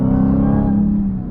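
Supercharged Dodge Challenger Hellcat Redeye engine accelerating, a loud close deep rumbling drone with steady harmonic tone that slowly fades slightly, no talk.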